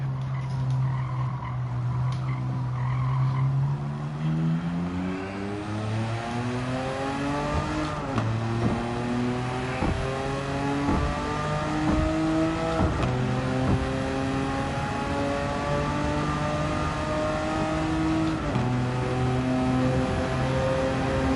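A Porsche 959 in Gran Turismo 7 on the Tokyo circuit, engine revving through repeated upshifts: the pitch climbs, drops and climbs again over about twenty seconds, loud and steady with no talk.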